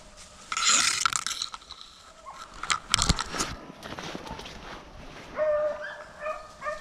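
A red tick beagle puppy bays and yips while chasing a rabbit trail outdoors. Excited bursts of howling and barking rise and fall, loud and fairly close, joined by other hounds at a distance.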